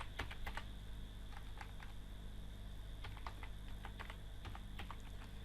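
Typing on a computer keyboard, a steady run of close, light key clicks in uneven bursts with short pauses, set against a constant low electrical hum.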